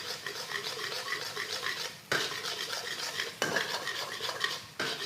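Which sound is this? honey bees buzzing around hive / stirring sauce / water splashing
stirring sauce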